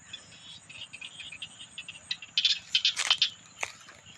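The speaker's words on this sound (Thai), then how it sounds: "นี่คือเสียงเขียดจนานะคะ" Small rice-field frogs croak in quick raspy bursts outdoors in a paddy at dusk, several calls overlapping over a faint steady insect-like drone.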